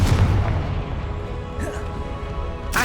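A Confringo fire spell bursts in the Hogwarts Legacy video game: a deep, rumbling boom opens, low rumble trails off, and a sharp blast cracks near the end.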